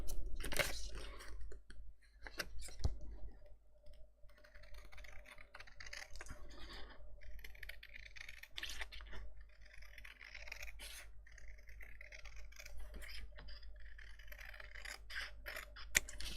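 Scissors snip through card stock while crafting an easel card, producing quiet crisp cuts and rustling paper scrapes in a close, irregular sequence at low volume.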